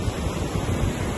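Steady wind at a beach by the Melas Resort, a broad, even rushing noise filling the whole moment, with surf or gusts rumbling low underneath and no voices.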